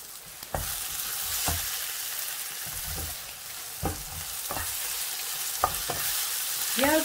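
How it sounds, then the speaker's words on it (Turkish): Eggplant pieces frying in oil give a steady, soft sizzle, broken by sharp pops and clatters as the pieces are stirred and turned in the pan at close range. "Yağda birazcık patlıcanları çevirdik."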